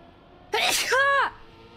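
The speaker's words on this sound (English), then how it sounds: "I need to sneeze so bad" A single close, loud human sneeze from a gamer wearing a headset, a sharp burst with a brief voiced tail, over quiet background.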